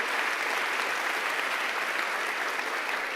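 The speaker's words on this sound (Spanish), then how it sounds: "Si es al Señor, dale fuerte el aplauso." A church congregation claps for the Lord during a Spanish-language sermon on faith, giving a steady, dense wash of applause that fills the whole stretch without any voice over it.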